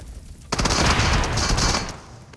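Rapid gunfire in a video game, a dense burst of shots blasting a car, lasting about a second and a half before quickly trailing off.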